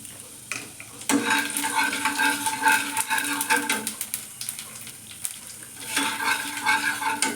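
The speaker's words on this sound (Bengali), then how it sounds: "কালো জিরে ফোড়ন দিয়ে এবার আমি দিয়ে দেবো পেঁয়াজটা" Black cumin seeds fry in hot oil, a steady hiss with scraping stirring strokes, the sizzle rising and falling over several seconds.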